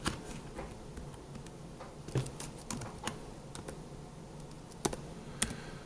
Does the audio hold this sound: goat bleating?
no